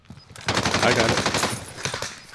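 Rapid automatic gunfire in a video game shootout involving a 9mm and an LMG: a dense burst of close, loud shots rattles for about two seconds after a brief quiet start, then thins to a couple of final cracks.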